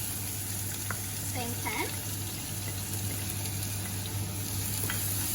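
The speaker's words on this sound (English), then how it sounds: "So I'm gonna fry for like 2 to 3 minutes only to make it" Onions and a little chopped ginger sizzle and crackle continuously in a pan on the stove, with occasional stirring clinks, while a person speaks briefly over the frying.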